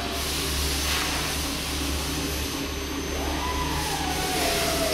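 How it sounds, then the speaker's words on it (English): A valve seat cutter machine works on a cylinder head, giving a loud, continuous motor whine and broadband grinding hum that holds steady throughout, with a faint rising tone near the end. "It's gonna start the machine, cutter's gonna start cutting, and he's gonna turn the dial."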